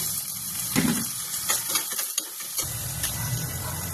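Garlic and onion sauté in a pan with a soft continuous sizzle, broken by scraping stirs and a few clinks of a utensil against the pan, close and moderately loud.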